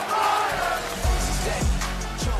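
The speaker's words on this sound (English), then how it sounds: "Listen to this crowd." Dense crowd roar fills a sold-out Madison Square Garden during a Big East college basketball game between Creighton and an opponent, loud and sustained with swelling bursts of cheering and low rumbling thumps throughout.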